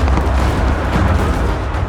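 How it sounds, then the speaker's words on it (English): Cannon fire during a Napoleonic battle, heard as a dense, continuous roar of booming artillery with no clear gaps between blasts. "Under a hail of cannon fire,"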